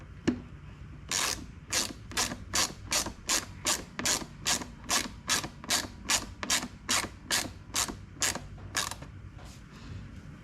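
A 6mm socket ratchet working the bolts on the rear fender of a KTM 250 EXC dirt bike, close up, giving about eighteen evenly spaced bursts of rapid clicking with brief quiet gaps between strokes.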